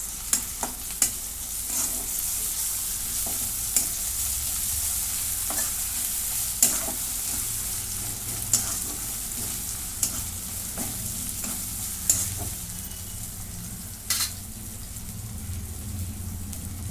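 Onion, ginger-garlic paste and yogurt fry together for a soybean chunk curry, a steady, close sizzle punctuated by regular sharp scrapes and taps of the spoon against the pan.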